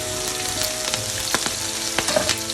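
Chilies frying in oil left over from frying pabda fish, a loud close crackling sizzle with sharp pops and spits scattered over a steady hiss.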